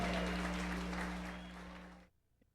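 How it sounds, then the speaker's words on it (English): Applause from an audience for a band's song at a band's reunion show in 1991, a dense burst of clapping over a low steady hum that fades and cuts off after about two seconds. "they always clap for that one"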